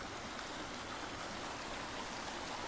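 A creek flows outdoors as a steady, full wash of rushing water with no pauses or changes, loud and close throughout.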